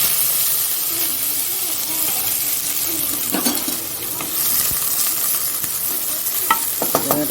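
Sliced bitter gourd frying in oil with panch phoron, a steady loud sizzle and hiss with occasional scraping stirs and pan clinks near the end.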